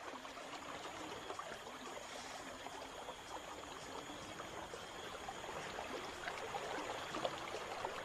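Steady, fairly faint rush of stream water below waterfalls in the Amazon, a continuous hiss with no break and no talk.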